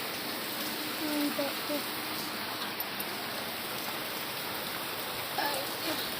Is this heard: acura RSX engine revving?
no